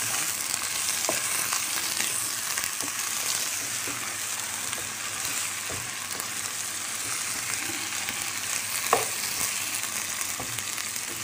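Minced meat frying in a pan with sautéed onions, a steady bright sizzle that holds evenly throughout, with occasional soft stirring scrapes close by and no speech.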